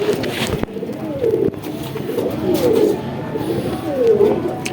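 Young Bajrai pigeons coo softly in a loft, several low rolling calls repeating over a light background hum with faint rustling, near and unhurried.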